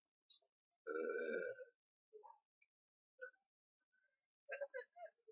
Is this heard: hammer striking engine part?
no